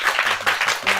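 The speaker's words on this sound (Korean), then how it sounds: "여러분 박수 부탁드립니다." Short burst of audience clapping at a KBS radio lecture hall event, close and moderately loud, lasting about a second.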